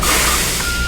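A truck backs up, and a steady reversing tone sounds over loud, continuous engine rumble, close and brief.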